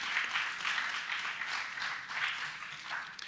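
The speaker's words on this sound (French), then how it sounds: "Est-ce qu'on peut applaudir encore une fois de plus" Audience applause at a Christmas special church gathering, a steady wash of clapping from many hands that swells and eases in waves, fairly faint and without speech over it.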